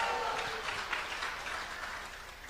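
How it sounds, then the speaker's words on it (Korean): An audience at a Liberty Unification Party political rally claps in a dense, crackling burst of applause that gradually fades over a couple of seconds. "박수하겠습니다"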